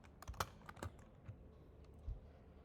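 Light computer keyboard typing, a handful of soft irregular keystrokes close by in a quiet room.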